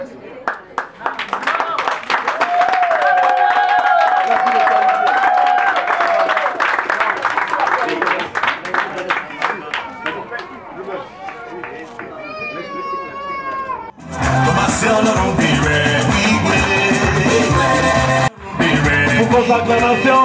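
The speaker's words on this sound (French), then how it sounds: "Pour vos acclamations, s'il vous plaît" Wedding guests at a customary and civil marriage in Libreville, Gabon clap and cheer loudly, the dense roar of applause rising in the second half after earlier voices and music.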